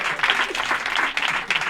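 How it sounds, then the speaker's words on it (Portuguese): Audience applause rises in bursts of loud, dense clapping close by, swelling and easing over a short stretch with no speech over it. "Gente, palmas"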